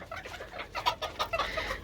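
Hens cluck close by in a backyard coop that also holds chicks, a quick run of soft, irregular clucks and chirps.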